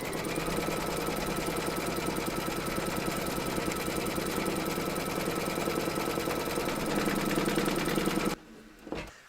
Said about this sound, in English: load your panel into your machine, and then we're going to stitch round number 1, and that's going to give us our placement outline for our batting